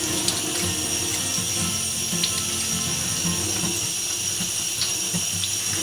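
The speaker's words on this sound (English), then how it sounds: "always remember to wash everything under fresh water to get rid of impurities and all the dirt" Fresh water runs steadily from a kitchen tap while asparagus and carrots are washed, a constant even hiss and splash with faint small clinks, close by and without talk.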